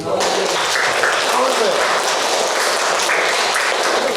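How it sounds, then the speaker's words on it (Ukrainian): Applause from a crowd at a meeting with a Ukrainian teacher-of-the-year contest winner, a dense steady patter of clapping throughout, with voices talking over it. "О, аплодисменти."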